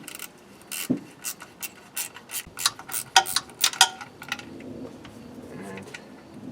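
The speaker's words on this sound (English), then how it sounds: "so I can put a socket over this and unthread that sensor out. I'm going to stick a 13mm socket on it." A 13mm socket on a ratchet wrench unthreads a temperature sensor from a Camaro/Firebird third-generation TPI engine, giving a rapid series of close ratcheting clicks and metallic rubs, then quieter fumbling.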